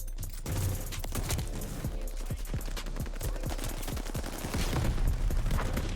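A combat shotgun in a video game fires a rapid string of close, punchy shots over a busy, noisy match background. Many sharp reports overlap, and the din grows slightly louder toward the end.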